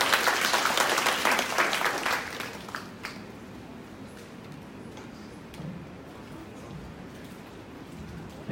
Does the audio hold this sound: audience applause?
yes